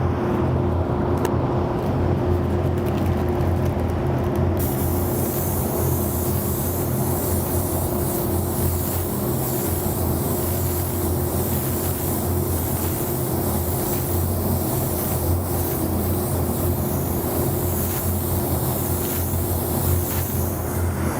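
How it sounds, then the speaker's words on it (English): A spray gun with an E4 air cap lays down one coat of Pyro Red paint, giving a steady, loud, continuous hiss of air and atomized spray that holds without a break. "So I'm going to go ahead and spray 1 coat of the Pyro Red."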